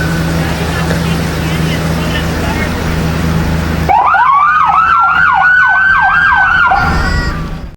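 Police and ambulance sirens from the Fort Kent Police Department and ASI Ambulance Service wail at a 2019 anniversary parade in Fort Kent, a loud rising-and-falling siren cutting in midway over earlier crowd and engine noise.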